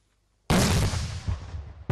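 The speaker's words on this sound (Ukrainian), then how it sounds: "Гранатомети черговий етап, заряди бойові." Grenade launcher firing live rounds during military training: one loud, close blast with a long, rumbling decay, followed by the sharp onset of a second blast at the very end.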